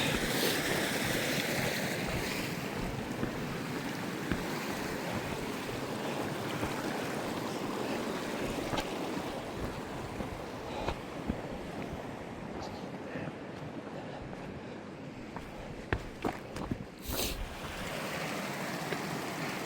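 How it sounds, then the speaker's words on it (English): Flowing creek water along a Mount Whitney day-hike trail in autumn: a steady, dense rushing wash that holds at an even level throughout, with some wind noise mixed in. "Back to the creek."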